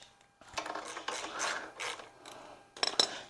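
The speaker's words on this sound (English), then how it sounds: "I'm going to go ahead and use my ratcheting 1/2" socket with my extension" A ratcheting 1/2 inch socket on an extension turns a bolt out of a California Trimmer RL20H handle extension kit, giving uneven bursts of close clicking ratchet pawl sounds, ending with a faint metallic tick.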